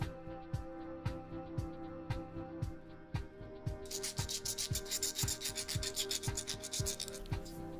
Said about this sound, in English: After some filing